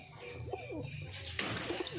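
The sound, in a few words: pigeon cooing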